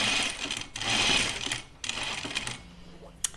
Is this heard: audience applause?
no